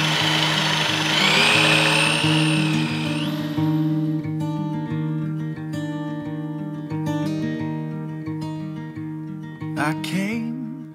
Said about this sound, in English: So, I'm gonna drill the hole